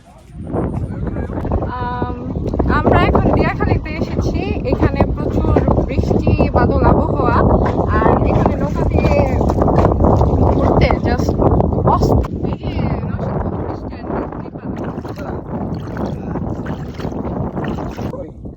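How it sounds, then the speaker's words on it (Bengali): Strong gusting wind roars against the microphone throughout, with voices talking over the buffeting. "আমাদের দুইজনকে যেমন উড়ায় নিয়ে যাবে এত বাতাস"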